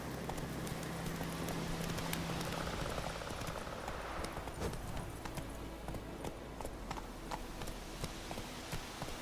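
Roach, the horse in The Witcher 3, gallops with steady, rapid hoofbeats over a dense outdoor game ambience, close and continuous throughout.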